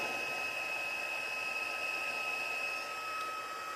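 A heat embossing gun blows with a steady, loud whirring hiss and a high whine, continuous throughout with no speech.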